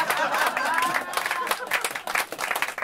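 Applause from a concert audience at a Polish sung-poetry evening rolls on in a dense patter of clapping, with a voice speaking over the crowd near the start.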